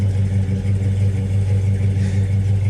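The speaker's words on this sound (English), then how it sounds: "You spike the throttle, it just revs right up." A swapped Hemi V8 in a truck runs steadily up close and loud, with a constant low rumble and slight rises in revs throughout.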